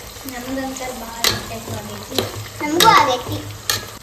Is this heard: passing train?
no